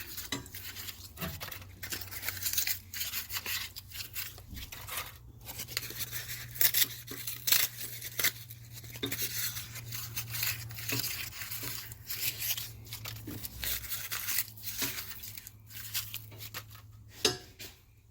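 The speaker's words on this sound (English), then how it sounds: "And I'll take cardboard pieces, bundle them up into little balls, and fill the fire pot a bit" Cardboard pieces are crumpled and bundled into small balls by hand for a coal or coke forge fire pot, a close series of crinkling, tearing and rustling bursts with irregular pauses.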